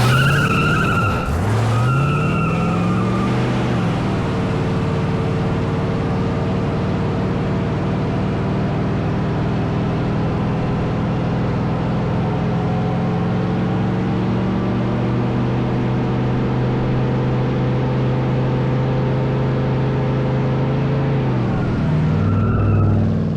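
A 1979 El Camino holds a long celebration burnout, its engine roaring at sustained high revs with tires screeching and skidding loudly throughout, close and continuous, the pitch dipping at the start and again as it winds down.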